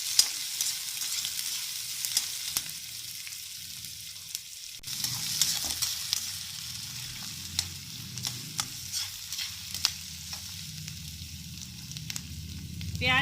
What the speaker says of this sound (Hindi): प्याज को हमें हल्का सा लाइट ब्राउन होने तक अच्छे से फ्राई कर लेना है